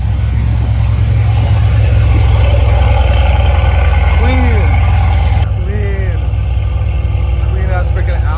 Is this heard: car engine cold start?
yes